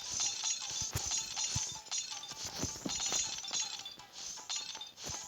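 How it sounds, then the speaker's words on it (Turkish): Glass cups shattering one after another in a cup-breaking minigame of Naruto X Boruto Ninja Voltage, a rapid series of sharp crashes and clinks over game sounds. "Şurada bardak kırmaca falan var oynayalım."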